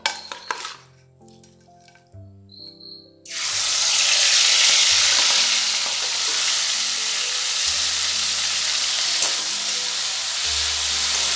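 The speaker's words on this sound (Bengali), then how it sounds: "মাছগুলো লাল করে ভেজে নেব" Marinated prawns coated in salt and turmeric hit hot mustard oil in a pan after a few light utensil clinks, then a loud, steady sizzle of frying carries on without pause, close and alone.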